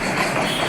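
A long Bangladeshi goods train rolls past close by, a loud, dense steady rumble and rattle of wagons and wheels with no pauses and no talking.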